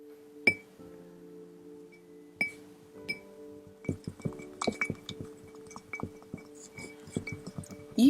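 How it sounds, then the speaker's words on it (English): Melted carnauba wax mixed with colour pigment is stirred in a glass container, giving scattered close clinks and scrapes of the stirrer against the glass, sparse at first and then busier, with no talking. "Then add some colour pigment and give it a good stir"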